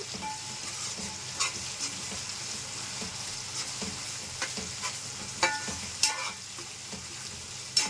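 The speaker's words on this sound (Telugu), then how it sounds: "అల్లం వెల్లుల్లి పేస్ట్ కూడా బాగా వేగాలి ఆయిల్లో." Ginger garlic paste fries in oil for chicken biryani, a steady moderate sizzle broken by intermittent spatula scrapes and stirring clatters close by.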